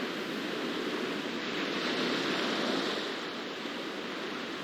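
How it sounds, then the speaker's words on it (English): Whitewater of Castle Rock Rapids rushes in a steady, loud, broadband roar of splashing river water, continuous throughout without breaks or voices. "Fun little splashes here and there."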